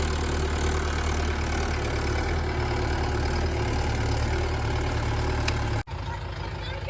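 A tractor ploughing and levelling a farm field with a 5-tine dozer blade drones steadily and loudly at close range, a continuous engine rumble with a brief dip near the end.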